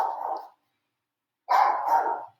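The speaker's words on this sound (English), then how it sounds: "The dogs bark, not people bark." Two loud barks from a dog nearby, separated by about a second of silence, the second bark longer and doubled.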